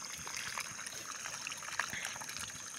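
Well water falls from high above and trickles steadily into a farm's irrigation channel, a soft, continuous, faint splashing with no break.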